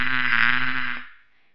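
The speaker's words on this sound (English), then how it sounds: "You're right. It's a bee." A bee buzzes steadily and loudly up close, a continuous droning hum that fades out over the final half second.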